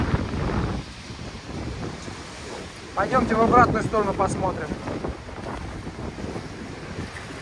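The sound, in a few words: stormy sea waves and wind at Lazarevskoye embankment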